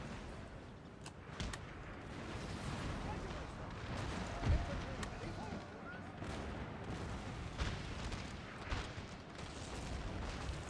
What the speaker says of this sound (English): Good, the cannons are now active.